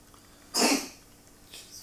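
A cat hacks once, a short harsh burst as it tries to bring up a hairball, fairly close and alone against a quiet room, followed by a faint trailing breath.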